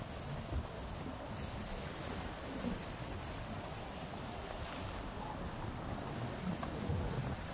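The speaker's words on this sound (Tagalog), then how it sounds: "yung mga alon na nakikita yung namumuti na yan, yan po yung malakas na alon" Strong, whitecapped sea waves on a windy beach at Barangay Tambungon, a steady low roar of surf and wind at moderate distance, continuous and unbroken.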